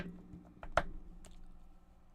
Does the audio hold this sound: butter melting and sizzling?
no